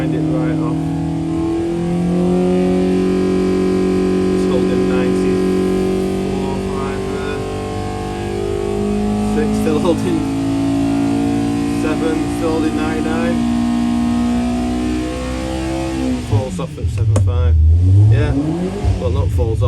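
A Benoy 1200cc engine revving hard under load on a dyno, a loud sustained drone with shifting pitch that climbs and falls, then a sharper rev swing near the end, with talk over it.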